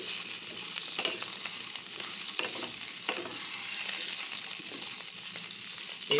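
Half-boiled canned mushrooms frying in a pan for spicy garlic mushroom, a continuous moderate sizzle with frequent scraping stirs of a spatula throughout, no talking.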